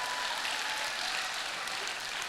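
A church congregation at a Christmas service applauds, a dense, even wash of clapping that holds steady throughout, heard from within the crowd and fairly soft overall.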